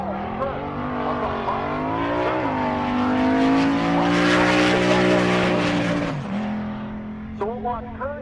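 A 2003 Ford Mustang launches down a drag strip at a race week event. Its engine roars loudly, climbing in pitch through the gears, then cuts off, and short tire chirps and squeals follow.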